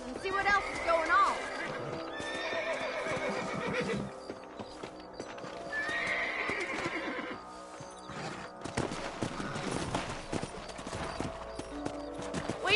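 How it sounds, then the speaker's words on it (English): Horses in the video game Red Dead Redemption whinny and neigh, with hoof clip-clop moving along under game music and voices talking over the scene. "Let's get back on the horses and see what else is going on."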